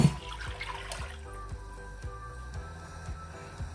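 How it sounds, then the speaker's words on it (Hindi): Glasses of water are poured into a cooking pot of rice for masar chawal, giving a soft watery splash at the start and then a quieter trickle with light repeated knocks. "इसके मैं ये 4 गिलास पानी डाल दूंगी।"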